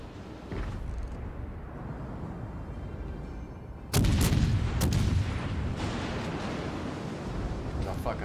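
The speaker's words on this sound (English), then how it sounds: "everybody's shooting at me" Naval battle video game gunfire, heavy ship guns booming as several enemies fire at once: a loud sudden blast midway followed by further thuds and rumbling over continuous low ambience, with someone speaking at times.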